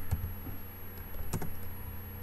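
Quiet, close typing on a computer keyboard as a document title is entered in MS Word 2013: a few scattered keystrokes with short gaps between them.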